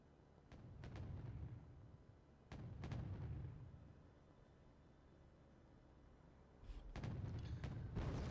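Mortar rounds landing along a forest edge in the Wargame: Red Dragon strategy game, a series of deep booming impacts with rumbling tails, some clustered in quick succession, heard alone at moderate distance.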